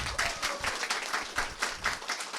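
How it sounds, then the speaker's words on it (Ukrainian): Audience in a comedy improv show claps for a crowd member, a short, lively burst of many hands clapping in an irregular rhythm, fairly loud and close with no talking. "Дайте Максиму трошки оплесків"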